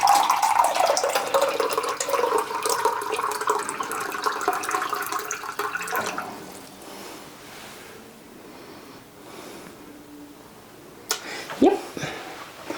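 Filtered water poured into a container in a home kitchen, a steady rushing stream for about six seconds that then stops, followed by quieter handling noises and a brief clatter near the end.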